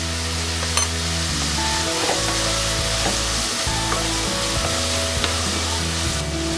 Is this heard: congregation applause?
no